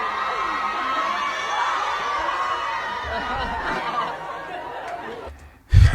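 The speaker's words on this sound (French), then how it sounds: "quand Alan, il est venu, il faut voir les cris qu'il y avait" A lively crowd at a pop-up store event cheers and shouts continuously, with laughter mixed in, before a sudden thump at the end.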